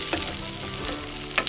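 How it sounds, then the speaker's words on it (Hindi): Onion and capsicum cooking slowly on low heat for banana chilly, a soft continuous sizzle close by with a couple of brief stirring scrapes, no voices. "प्याज और कैप्सिकम डालने के बाद हमें इसको हल्की आंच में धीरे धीरे पकाना है"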